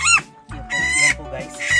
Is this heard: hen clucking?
yes